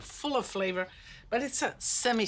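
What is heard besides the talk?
No distinct noise like a dog, phone or traffic.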